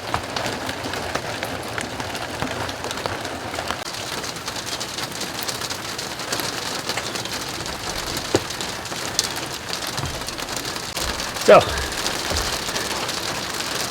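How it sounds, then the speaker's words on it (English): Steady rain falls on a newly fitted tarp, a dense even patter throughout with a brief spoken word near the start and a faint thump late on. "if it keeps on raining, especially if it starts raining a little bit harder"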